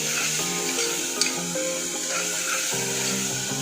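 Chopped onion and tomato frying with salt in a pan on a gas stove, a steady close sizzle with soft stirring scrapes throughout.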